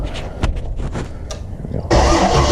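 A Buick Grand National turbo engine with a PWM fuel controller cranks with uneven chugging strokes, then catches and fires into a loud steady idle close by.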